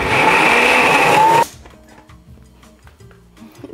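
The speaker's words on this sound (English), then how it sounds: "I think it was a pretty expensive blender, but it still don't want to mix the frozen stuff" A pricey blender whirs loud and steady on frozen smoothie ingredients with a strained, high motor whine for about a second and a half, then cuts off abruptly, leaving quiet kitchen clatter.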